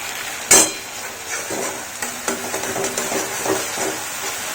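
Spices with green chillies sizzle in a hot pan for a no-onion, no-garlic stuffed capsicum dish, opening with a sharp burst of frying, then a steady hiss with several stirring scrapes and clinks.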